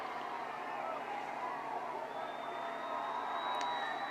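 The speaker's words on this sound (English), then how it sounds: "The roar from the crowd of South Point on the other side of the field is humongous" Distant football crowd at a high school 3A state championship game, South Point fans across the field roaring and cheering in a sustained wash of noise with faint whoops and a whistle-like tone.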